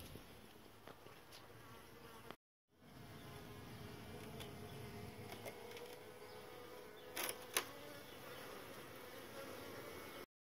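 A dense, steady buzz of many bees swarming close by inside a fence, continuous throughout with a brief dropout near the start.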